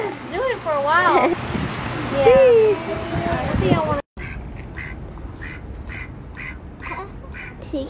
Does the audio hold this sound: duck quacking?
yes